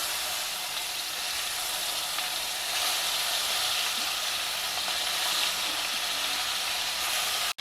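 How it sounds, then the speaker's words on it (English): Stuffed brinjals frying in a shallow pan of oil over a low flame, a steady close bright sizzle and hiss that holds evenly throughout, with no talking. "And now place these stuffed brinjals carefully one by one into the oil."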